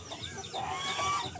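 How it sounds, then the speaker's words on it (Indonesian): Chickens on a small farm plot cluck softly at a moderate distance, with a few brief calls over light outdoor background noise. "Ayam."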